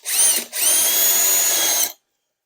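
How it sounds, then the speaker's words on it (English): A power drill bores a hole into the end of a crack in a plastic bumper from an Aston Martin DB7 V12, giving a loud whining burst, a brief pause, then a longer steady run that stops abruptly. "I'm just going to drill a hole in the end of the crack."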